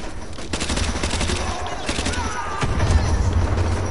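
Enemy gunfire in Call of Duty Modern Warfare 2 crackles in rapid bursts of automatic shots, loud and close, with heavier thumping impacts building toward the end.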